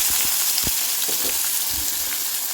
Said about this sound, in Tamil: இப்போ நம்ம வெங்காயம் போட்டுக்கலாம்